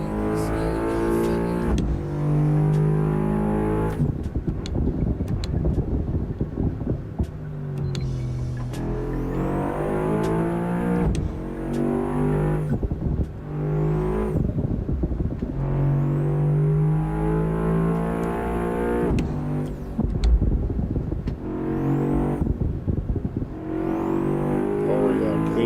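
A Honda Civic Type R driven fast in a video game, its engine revving loudly and continuously, with pitch climbing and dropping through repeated gear shifts and no pauses.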